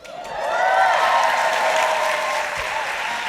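Live audience applause at a panel taping at the 92nd Street Y in New York City, a dense burst of clapping from a crowd that rises quickly and holds steady, close and loud, with no talking.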